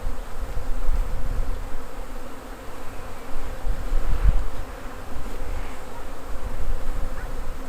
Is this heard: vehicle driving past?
no